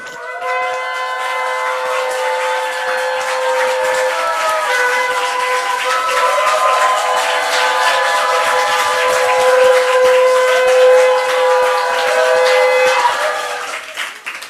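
A trumpet-like horn is blown during a Korean church revival worship service, holding one loud, bright, sustained blast with shifting overtones for about fourteen seconds before cutting off.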